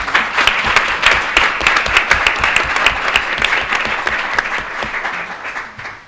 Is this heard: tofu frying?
no